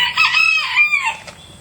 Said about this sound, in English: I still got all my old chickens, but we have more chickens now from the hatches.